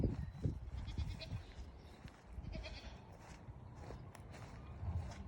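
Goats bleating in a big farm pen shared with chickens, with several bleats standing out near the start and end over steady pen noise and some shuffling, fairly close.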